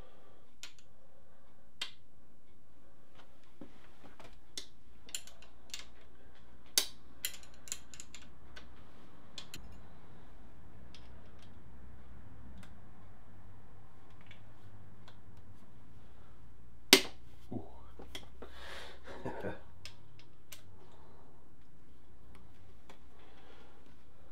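Sparse clicks and metallic ticks from hidden crankcase bolts being undone on a Suzuki Bandit engine during a gearbox repair, scattered and fairly close over a quiet background, with one sharper knock partway through.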